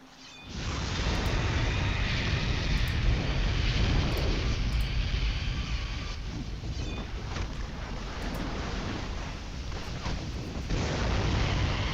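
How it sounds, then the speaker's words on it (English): A big explosion from a Tier 9 power used by a Sentinel in City of Heroes, a dense, sustained roaring blast that stays loud and full for the whole stretch, with no talking. "Yeah, you gotta like that big explosion."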